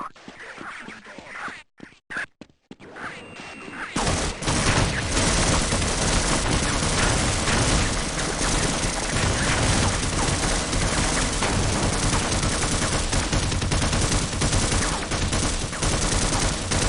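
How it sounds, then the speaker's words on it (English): Dense, sustained video game gunfire starts after a few seconds of quieter sound and runs loud and unbroken to the end, a constant fusillade of rapid shots. "Now you're shooting me."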